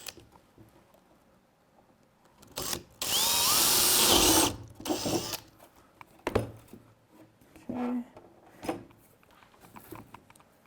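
A power drill bores a hole during assembly of a 2025 VRS top frame, one loud sustained burst of about two seconds followed by shorter whirs and scattered clicks and taps.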